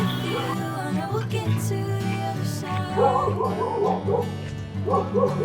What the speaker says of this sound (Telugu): మన వైపు పెంచుకున్న కుక్కలు ఇక్కడ వీధి కుక్కల్లాగా ఉన్నారు.